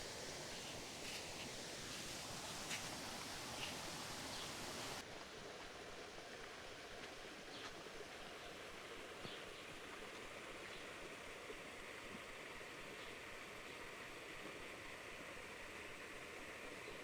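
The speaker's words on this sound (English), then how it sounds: "I don't know if you can hear the water, but it's really pretty." A stream on a hiking trail rushes in a continuous, even wash of flowing water, fairly close, with no voices.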